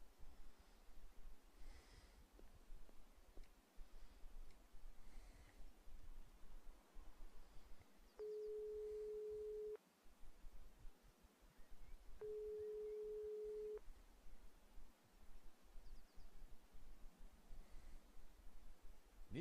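Phone ringing in the video game Broken Sword 5, two long flat electronic rings separated by a gap, faint against quiet breathy background noise with no talking.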